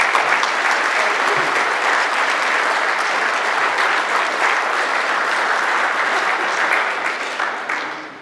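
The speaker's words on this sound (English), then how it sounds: "Please give them a round of applause." Loud, sustained crowd applause at a Marine Ball for India Company, dense clapping from a large room that holds steady and then tapers off at the end.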